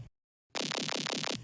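A gritty texture layer for tearout dubstep, synthesized from a saw wave and noise. After a brief silence come about five quick, buzzy, rhythmic pulses, dense and loud, played alone.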